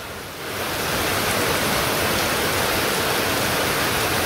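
During a heavy rainstorm, rainwater pours off the edge of a roof in a dense, steady rushing splash that swells within the first half second and then holds loud and constant.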